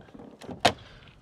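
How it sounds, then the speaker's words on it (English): A fuel flap on a 2019 Ford Transit Custom van pops open with one sharp, close click, after a softer handling sound, in an otherwise quiet moment. "So if you open the door, you can then open the fuel flap like so."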